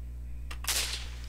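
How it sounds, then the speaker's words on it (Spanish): Gunfire from Resident Evil 4 arrives as a short burst of sharp cracks, one close shot followed by a brighter, noisier blast, over a steady low hum. "A ver, le disparo en la cabeza."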